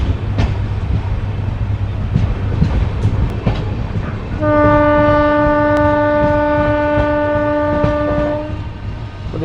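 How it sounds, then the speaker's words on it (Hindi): The 14505 Nangal Dam Express runs along the tracks with a loud rumbling clatter and rhythmic wheel knocks, then a long sustained horn blast sounds for about four seconds over the running noise. "यहाँ पे हमारी ट्रेन 20 मिनट पहले पहुँच गई थी।"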